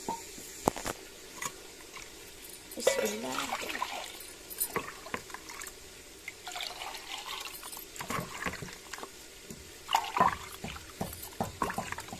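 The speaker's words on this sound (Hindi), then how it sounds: "डेढ़ भाग हम इसमें पानी डालेंगे" Water is poured over uncooked rice in a cooking pot in a small home kitchen, producing faint, intermittent splashing and trickling with a few louder bursts.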